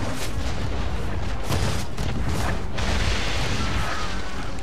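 Ship cannons booming in an Assassin's Creed naval battle, a dense barrage of heavy blasts and rumbling bursts packed together over a constant roar, loud and continuous.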